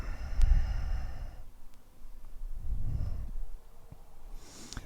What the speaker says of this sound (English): And we'll take 2 more breaths here.